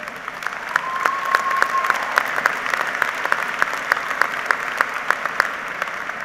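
A crowd at a 2022 university commencement ceremony applauds steadily to welcome the afternoon speaker, a dense, even wash of clapping with sharp individual claps standing out throughout.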